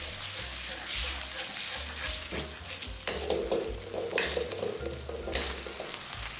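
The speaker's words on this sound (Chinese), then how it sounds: "首先把糖醋汁煮开， 烧开之后勾薄芡" Sweet and sour sauce bubbling in a pan as starch slurry is stirred in to thicken it, giving a soft steady sizzle with intermittent scraping and stirring clatter, close up.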